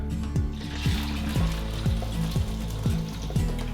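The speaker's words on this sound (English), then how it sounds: "I'm just gonna fry that separate" Food frying in a pan while cooking stir fry: a steady close sizzle and crackle throughout, with rhythmic scraping strokes of a utensil stirring about every half second, no talking.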